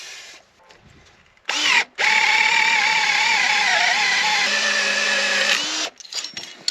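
A power drill boring holes to fit anti-twist fittings on a Deutz-Fahr tractor, a loud steady whine that starts briefly, stops, then runs continuously for several seconds before cutting off.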